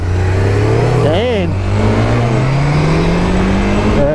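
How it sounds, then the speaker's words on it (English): A Yamaha FZ1 motorcycle with an R1 engine accelerates hard nearby, its rising engine note climbing steadily under a loud rushing roar, with one quick rev blip and a brief spoken exclamation. "It's an FZ1, so it's the Yamaha R1 engine."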